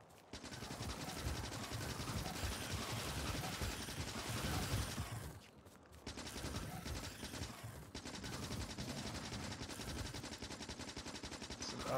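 Automated gunfire rattles in Factorio with the Warptorio mod, a dense, continuous rapid-fire stream that breaks off briefly twice before resuming, with no talking.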